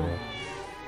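A cat meows once in LEGO Harry Potter, a drawn-out, close, clear cry over faint background game music.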